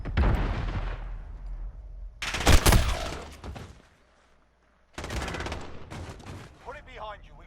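Bursts of automatic gunfire in a Call of Duty: Modern Warfare online match, loud rapid volleys separated by a short silent gap, then another burst of shots, with brief player talk.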